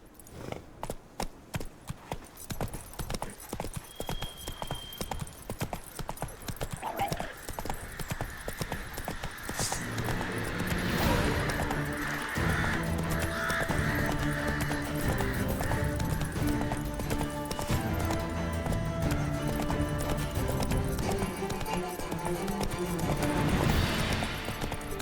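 A horse gallops in The Witcher 3 video game, hooves clip-clopping in a steady rhythm that grows louder and fuller partway through, with occasional whinnies and game sounds mixed in.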